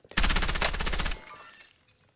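Rapid submachine gun burst in a Warzone match, a loud close stream of shots for about a second before the echo fades out.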